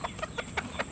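Chickens give a short series of about five quick clucks in an even rhythm, close and moderately loud with no talking.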